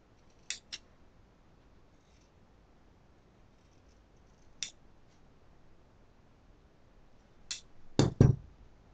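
Scissors snip through jacket canvas at a bespoke tailor's table: a few isolated crisp cuts spaced apart, then a louder cluster of closer snips near the end, with quiet pauses between.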